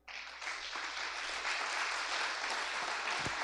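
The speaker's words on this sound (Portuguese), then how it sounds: "Vamos aplaudi-lo?" A church congregation applauding during a service, dense clapping from a large crowd that starts abruptly and holds steady and full for several seconds, with a low hum underneath.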